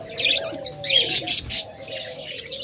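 Pet birds at a bird farm selling pairs such as rainbow birds, with busy chirps, tweets and cooing calls overlapping close by in a lively, continuous chorus.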